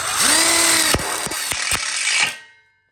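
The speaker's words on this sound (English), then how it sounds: "And then we lock it in with a low profile self-drilling screw." A power drill whirs loudly as a low-profile self-drilling screw bites into metal, with a few sharp clicks and a rising whine before it stops abruptly.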